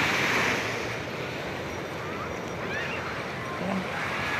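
Ocean surf rolling onto a beach at Bolinao, a continuous loud wash of breaking waves with wind buffeting the microphone and faint voices in the background.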